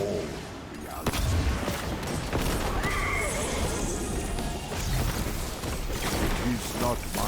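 A horse in the video game Destiny 2 neighs and whinnies loudly amid a busy, dense mix with clip-clopping hooves and other game sounds throughout.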